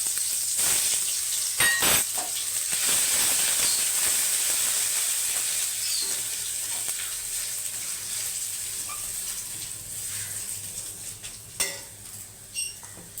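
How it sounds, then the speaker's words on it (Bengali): Dry red chillies, a bay leaf, whole garam masala and ginger paste fry in hot oil for a cauliflower korma, a steady hiss and sizzle punctuated by a few sharp utensil knocks against the pan. "2টো শুকনো লঙ্কা, একটা তেজপাতা, দেবো গোটা গরম মশলা, একটু আদা বাটা দেবো,"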